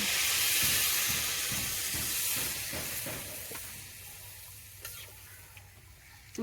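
Cauliflower and fish curry sizzling and hissing in a pan as gravy liquid is poured in, steady frying noise with rhythmic stirring scrapes that fade to a quieter simmer, close and without talk.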